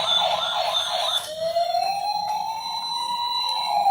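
Battery-powered toy fire truck siren wailing loudly up close, a tinny electronic tone that switches partway through to a rising, steady siren pitch with no talking over it.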